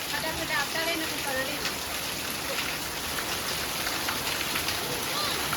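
Rain pours down steadily on a village evening, a dense, even hiss with scattered drops that stays loud and constant for the whole stretch, without speech.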